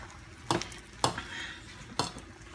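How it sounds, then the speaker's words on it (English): Smothered potatoes cook in a pan while a utensil scrapes and clinks against it in three distinct strokes, with a faint sizzle running quietly underneath. "I'm cooking. Making smothered potatoes."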